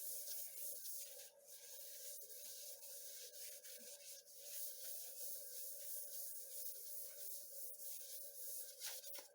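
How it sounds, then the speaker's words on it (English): Paper towel rubbing and wiping across a cup, a continuous close-up scratchy swishing with small pauses, no voices. "And then I come through with the paper towel. And I give it a good wipe down."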